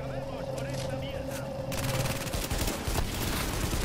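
Gunfire aimed at a sniper in The Division during a Police Academy mission, dense bursts of rapid shots that grow louder and busier partway through, with a voice talking under them.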